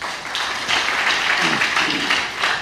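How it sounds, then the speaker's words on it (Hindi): Congregation at a Pentecostal church sermon giving a short burst of steady applause, brisk clapping from many hands with a faint voice underneath. "सबके लिए ताली बजाओ"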